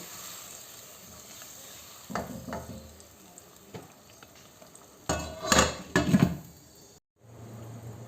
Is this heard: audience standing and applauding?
no